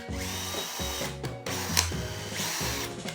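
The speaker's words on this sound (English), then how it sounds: "drilling pilot holes and then attaching the hinges" Power drill boring pilot holes in wood to fit strap hinges on a portable market display, a steady whirring motor with pitch shifts and brief pauses between bursts, close and fairly loud with no talk.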